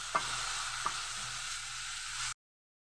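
Onions sizzle in hot oil in a pan where garlic has already browned, a steady bright frying hiss with two soft clinks of a utensil early on, then it cuts off suddenly.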